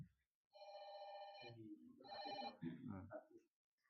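A mobile phone ringtone goes off during an Arabic lesson at a religious study gathering: two bursts of bright electronic melody, with a voice speaking over and between the rings.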